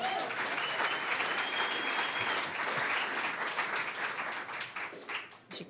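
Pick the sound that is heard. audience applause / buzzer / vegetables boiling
audience applause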